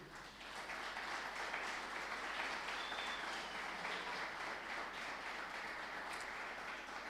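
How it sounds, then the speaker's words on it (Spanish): Church congregation applauding at a sermon, a dense, steady wash of many hands clapping together that holds evenly for several seconds, heard at a distance and fairly soft. "Denle un fuerte aplauso al Señor"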